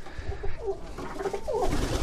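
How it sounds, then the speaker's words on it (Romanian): French curly and Hungarian giant pigeons coo softly nearby, with low throaty rolling calls repeating over a background of faint rustling. "Sunt niște porumbei unici în felul lor, niște porumbeti deosebiți"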